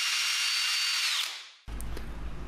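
A power drill bores into metal with a loud, high whine that winds down and cuts out, followed by a brief clunk and faint handling noise close by.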